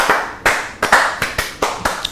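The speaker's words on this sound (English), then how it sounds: "Light applause." Light applause from a few people in a cricket studio show setting, sparse, evenly spaced claps about a quarter second apart, close and distinct with no talking.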